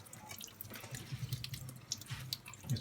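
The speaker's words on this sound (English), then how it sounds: "Drain it, and I'm going to give it a good squeeze." Water draining and dripping from squeezed grated potatoes for Polish potato pancakes, heard as faint, scattered small drips and trickles landing close by, irregular and quiet.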